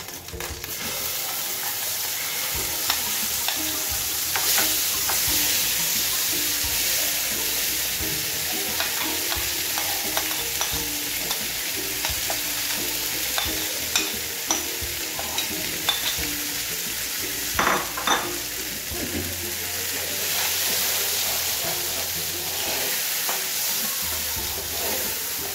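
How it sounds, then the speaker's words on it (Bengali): Boiled, ground green peas are stirred and fried in a pan with black cumin and asafoetida, giving a continuous close sizzle with frequent scraping and stirring clatter. "এবার যে বেটে রাখা কড়াইশুঁটিগুলো দিয়ে দিচ্ছি।"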